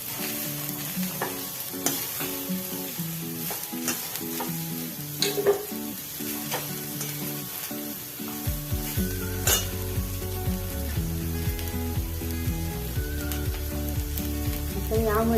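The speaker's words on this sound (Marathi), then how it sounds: "हलवत राहायचं." Food sizzling in a hot pan with steady frying hiss and repeated scraping of a spoon stirring, continuous and close, with occasional clinks of utensil against the pan.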